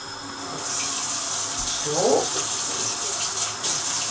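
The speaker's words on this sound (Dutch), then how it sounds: "Dan ga ik even mijn hand wassen." Tap water runs steadily into a kitchen sink while a hand is washed, a close hiss with brief splashes and a short spoken word.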